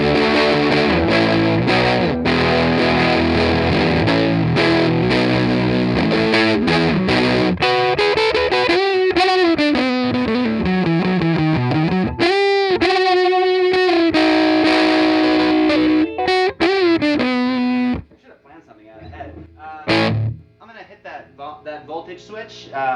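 Electric guitar played through a Silvertone 1482 clone amp on the regular channel with the gain maxed, loud distorted chords and bending lead lines, then it drops to quieter picking near the end.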